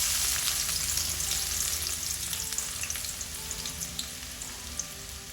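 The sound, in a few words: onions frying in hot oil in a pan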